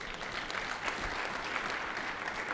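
A church congregation clapping together, a dense steady wash of many hands applauding continuously without pause.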